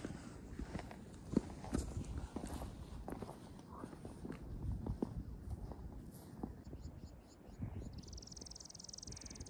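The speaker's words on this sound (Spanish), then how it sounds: "Y miren esto. Compagina con el paisaje. Unos caballos." Ranch horses walking in an Ecuadorian highland landscape, faint scattered hoof clops on the ground, distant and quiet under low background noise.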